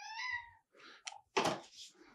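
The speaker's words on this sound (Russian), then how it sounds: "А это вот у меня животное здесь такое есть, которое постоянно, каждый вечер мяукает что-то." A cat gives one clear drawn-out meow close by indoors, followed by a few soft thumps and bumps and a brief burst of rustling.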